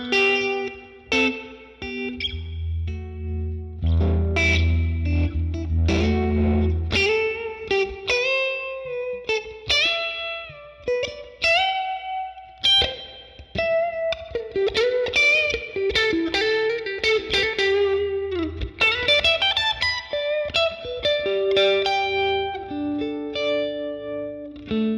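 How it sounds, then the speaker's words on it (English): An electric guitar through a modelled 1953 Fender 5C3 Tweed amp in a Helix, with tremolo and spring reverb on the pushed normal channel, plays a long run of driven, chiming notes and chords, continuous and up close with no voices. "This might work well with the spring reverb actually."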